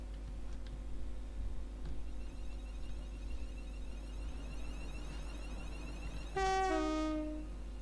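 A Class 350 electric train in a train simulator rolls into Tring station with a steady low hum, then a loud two-tone horn blast sounds near the end.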